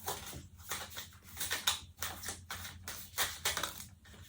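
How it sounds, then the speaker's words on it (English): Tarot cards shuffled by hand during a monthly reading, giving a run of soft, riffling bursts with short gaps between them, close and fairly quiet, with nobody speaking. "I'm just going to shuffle your cards."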